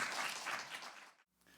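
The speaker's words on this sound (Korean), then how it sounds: "우리 하나님께 감사하는 마음으로 환영의 박수로 우리 박수하겠습니다." Church congregation clapping in welcome during a Christmas thanksgiving Sunday service, a steady, dense round of applause that fades out near the end, followed by a brief quiet gap and a soft resumption.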